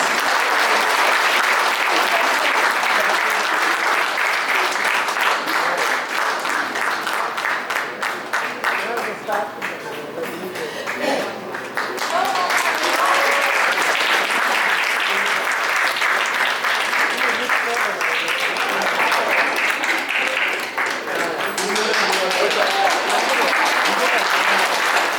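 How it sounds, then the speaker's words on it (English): Sustained applause from an awards-night audience fills the hall as a sponsor is called up to present a prize, a thick, even wash of clapping that dips briefly midway before swelling again. "Please give them a huge round of applause."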